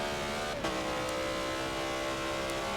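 A BMW Z4 GTE race car in a racing game holds a loud, steady engine drone at Sebring, with a brief shift-like blip near the start and no voices.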